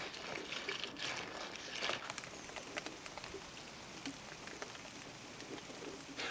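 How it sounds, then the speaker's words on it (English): Steady rain falling outside a garden potting shed, a dense close patter of drops on surfaces continuing throughout with no talk over it. "while the rain is still falling outside"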